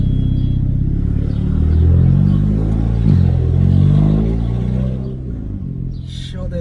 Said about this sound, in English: Yo, the turbo sounds loud.